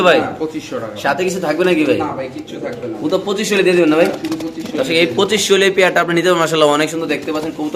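White king pigeons coo softly in the background while a person talks over them nearly throughout.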